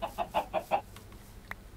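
A Minecraft chicken in the video game clucks while laying an egg: five quick, evenly spaced clucks, then a short pop, close and clear.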